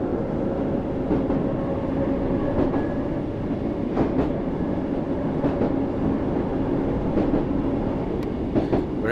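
A London Underground train in the Train Sim World 6 game runs steadily on fourth-rail track, with a constant loud rumble, a low motor drone and faint rhythmic wheel clicks throughout.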